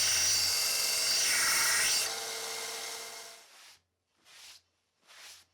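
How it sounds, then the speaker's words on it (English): A belt grinder makes a final pass on a hook knife ground from an old saw blade, giving a loud abrasive hiss for a few seconds, then a pause and two short grinding bursts. "And then given a final pass with the belt grinder."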